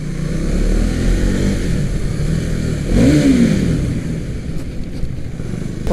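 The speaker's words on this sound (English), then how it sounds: "listen to what the exhaust sounds like" A 2024 Husqvarna Svartpilen 401 motorcycle engine rumbles loudly through its exhaust, with a sharp rev rising and falling midway before settling back to a steady throaty idle.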